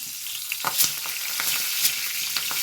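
Fenugreek, mustard seeds and dried red chillies sputter in hot oil for a buttermilk tempering, a dense continuous sizzle with scattered crackling pops, close and loud, with no voices.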